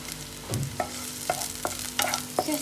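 Three slit green chillies sauté in hot oil in a pan with a steady sizzle while a spatula stirs and scrapes, giving several distinct knocks against the pan.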